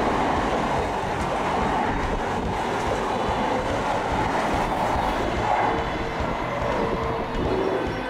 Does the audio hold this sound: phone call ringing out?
no